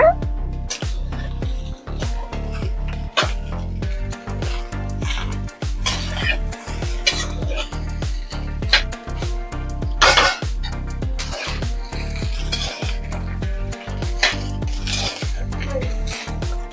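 A metal spatula scrapes and clangs rhythmically against a pan, tossing egg fried rice over and over in a street-style cook, with quick repeated clatters and no sauce added.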